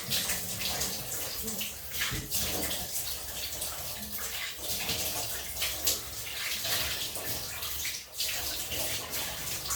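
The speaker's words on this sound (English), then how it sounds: "it's taking a good while to rinse the slickness off" Running water rinses slick shaving soap off a razor in a steady, close, unbroken splashing stream.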